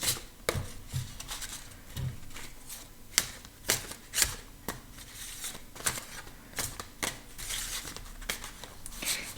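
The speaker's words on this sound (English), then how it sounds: "I'm gonna shuffle through my galactic symbols" Galactic symbol oracle cards shuffled by hand in a quiet room, a run of crisp riffling snaps and soft papery flutters in an uneven rhythm, close and clear with no voices.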